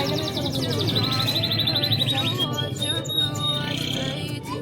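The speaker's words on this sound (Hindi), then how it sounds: "इसकी आवाज सुन के आपको पता चल गया होगा कि ये नायाब सी चिड़िया थी" Rare caged bird in a shop, priced at 12,000, giving rapid high chirping trills and whistles over a busy background murmur of voices and shop noise.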